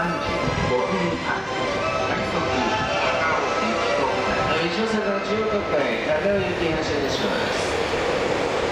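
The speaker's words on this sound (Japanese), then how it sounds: "番線に当駅止まりの電車が参ります。" A Chuo Line Rapid E233-0 series commuter train bound for Takao rumbles steadily into a Japanese station platform, with continuous mechanical noise and clattering and a Japanese public address voice speaking over it.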